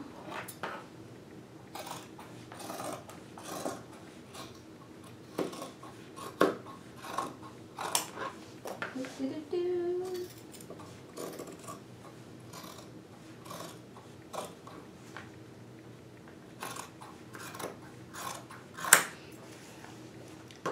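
Scissors cut through dress fabric in scattered short snips, quiet and close, with faint clicks and rustles between cuts and brief pauses, no talking.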